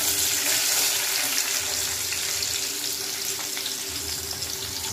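Onions frying in oil in a pan give a steady, dense, close sizzle that carries through to the end and eases only slightly, with no voices.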